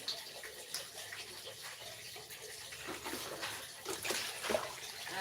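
Water pours and splashes steadily while raw chicken is washed with soap in preparation for a meal, a continuous soft gush with small splashy bursts, close but quiet, with no talk.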